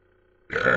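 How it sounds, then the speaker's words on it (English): A single loud, close burp breaks out after a quiet lull and rumbles on steadily to the end, heard alone with no talking. "Burping."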